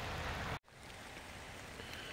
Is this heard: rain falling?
yes